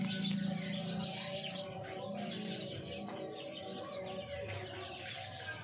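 A jalak kapas starling sings a busy, varied run of chirps and whistles, close and continuous over a dense background of other birdsong.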